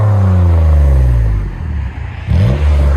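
Loud revving from a 2013 Toyota Highlander's 3.5L V6 through a muffler-delete dual exhaust, rising in pitch, easing to a lower idle-like rumble, then climbing again in a second rev near the end.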